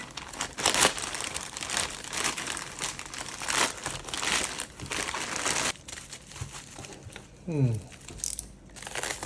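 A plastic bag holding vintage Pokemon single cards crinkles as it is opened, with bursts of rustling and crackling over about nine seconds, close and moderately loud, and a short sliding squeak near the end.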